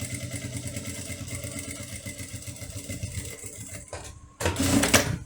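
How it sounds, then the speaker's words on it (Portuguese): A sewing machine runs a rhythmic, rapid stitching chatter while topstitching a fabric wallet, then pauses briefly before a louder burst of handling noise. "Vou passar uma costura aqui de pesponto. Ó. Que é para fechar essa abertura."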